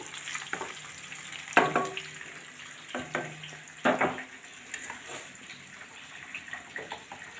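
Food frying in a pan in a home kitchen, a steady sizzle broken by louder scraping stirs at irregular intervals, close and continuous with no talk.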